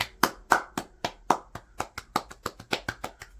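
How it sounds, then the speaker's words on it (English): A small group claps in a sparse, distinct rhythm, each sharp hand strike standing out on its own at close range with quiet gaps between them. "They're clapping."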